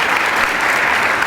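An audience applauds at a Phi Beta Kappa and Society of the Cincinnati convocation: dense, steady clapping from many hands fills the hall at full volume throughout, with no break.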